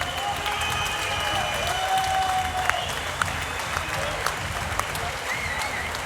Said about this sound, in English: give these fighters a round of applause